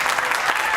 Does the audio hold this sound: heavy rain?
no